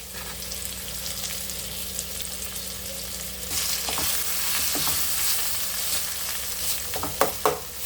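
Onions frying in a pan for mushroom biryani, a steady sizzle that grows louder midway, with sharp scraping stirs of a spatula near the end and no talking.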